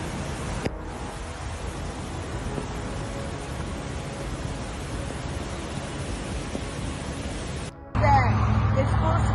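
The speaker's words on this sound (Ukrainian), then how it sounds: "Водоспади під час повені в Омані." Floodwater pours over waterfalls in Oman with a constant heavy roar, broad and unbroken, before a sudden cut to a louder, different stretch where voices come in.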